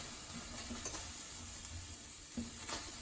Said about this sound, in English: stir it around and get my onions through it, get the garlic through it, let it spread around on the pan.